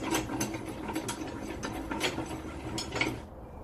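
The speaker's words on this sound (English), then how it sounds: "Clamp it in." Ratcheting, clicking mechanical clamp noises as aluminium stock is secured in an Evolution Rage 2 saw, a series of close, irregular metallic clicks and clunks before falling quiet.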